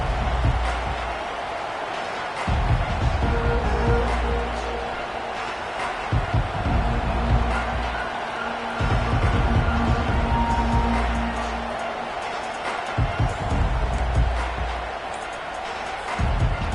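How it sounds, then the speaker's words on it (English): A loud stadium crowd roars and cheers in an NCAA 24 college football video game, a dense, sustained wall of noise that swells in waves, with a commentator's voice running underneath. "This crowd bringing an ear-splitting welcome to their visitors"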